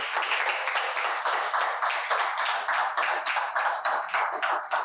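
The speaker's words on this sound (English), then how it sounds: "Let's give them a big clap." A seminar audience claps in a quick, rhythmic unison pattern, a steady run of evenly spaced beats filling the room, loud and close, with no talk over it.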